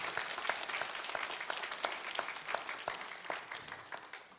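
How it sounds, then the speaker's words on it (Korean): A church congregation claps steadily and warmly, a dense patter of many hands filling the space at moderate distance. "우리 그런 의미로 한 번 더 박수 드리겠습니다."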